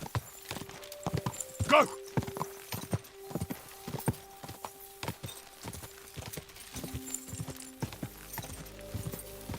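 Horse hooves galloping in rapid clip-clop rhythm in Kingdom Come Deliverance 2, with a whinny early on, game music tones and someone shouting commands over the steady hoofbeats.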